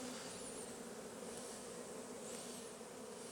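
Honeybees buzz around a beehive frame held by a beekeeper, a continuous close hum of many insects that stays even throughout, with no talking.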